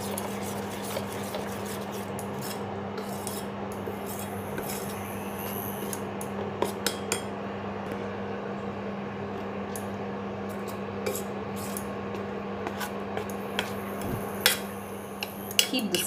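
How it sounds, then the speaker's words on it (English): Spoon scraping and stirring a thickening sugiyan mixture in a vessel over low stove heat, with soft continuous scraping and occasional sharper clinks against the pot's metal sides. "Keep mixing it, otherwise this tends to get to the bottom of the vessel and gets charred."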